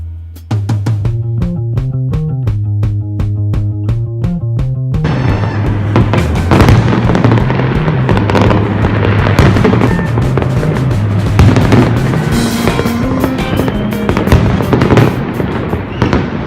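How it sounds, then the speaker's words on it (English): A New Year's fireworks show over the marina at Tesoro in Cabo goes off in dense, overlapping booms and crackles, loud and continuous, with music playing alongside the bursts throughout. "great fireworks show"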